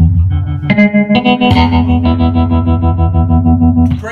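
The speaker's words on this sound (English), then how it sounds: "Great tremolo, great reverb." An electric guitar plays through a Traynor YSR-1 amplifier from the early 1970s with tremolo and reverb, giving loud sustained chords that pulse in rapid waves and ring out with a lingering wash, with no voices.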